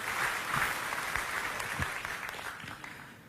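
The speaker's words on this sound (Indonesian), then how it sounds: "Yang mengerti kita berikan tepuk tangan bagi Tuhan kita saudara." A church congregation claps together in a moderately loud, even burst that gradually thins and fades toward the end, with no voices over it.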